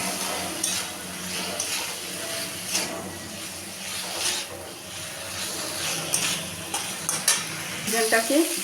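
Chicken coated with salt, turmeric and Kashmiri chili powder is stirred in a frying pan. A close sizzle runs under repeated scraping and clinking of a spoon against the pan, with a faint voice briefly underneath.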